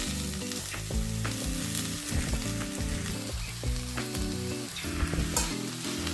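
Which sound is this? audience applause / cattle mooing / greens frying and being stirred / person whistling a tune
greens frying and being stirred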